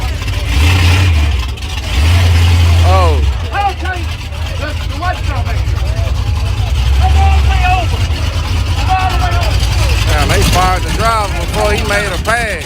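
A tuned Chevrolet Camaro at a drag strip rumbles loudly with repeated engine revs, low and close, while people talk and shout excitedly over it throughout.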